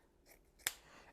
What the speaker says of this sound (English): I'm gonna cut right here a slant